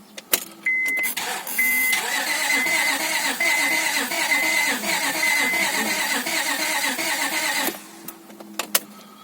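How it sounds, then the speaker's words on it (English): After a rear main seal replacement, a car engine cranks over with the ignition disconnected, a fairly loud, rhythmic churning starter sound lasting several seconds, with brief clicks before and after. "after cranking the engine over a couple of times"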